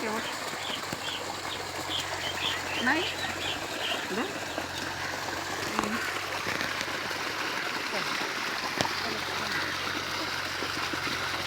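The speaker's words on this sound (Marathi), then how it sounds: "हा पक्ष्यांचा किलबिलाट ऐकायला किती छान वाटतो ना" Birds chirp out in green farm fields, with faint scattered calls over a steady outdoor background that includes trickling water and distant voices.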